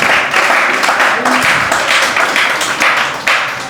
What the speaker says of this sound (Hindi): इनका स्वागत किया जाए तालियों से